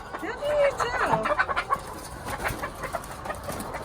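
Hens cluck in short, irregular bursts on a poultry farm, close and fairly clear, while people talk over them.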